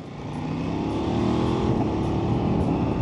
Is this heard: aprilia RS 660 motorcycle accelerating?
yes